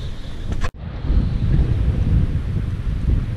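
Strong wind on a river during kayak fishing buffets the microphone with loud, continuous low rumbling gusts after a brief sharp knock, no speech.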